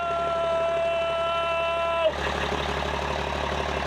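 A race truck engine held at about 3,300 RPM gives a steady droning tone with strong harmonics, then abruptly changes to a rougher, broadband roar partway through. The sound is close and loud, with no voices.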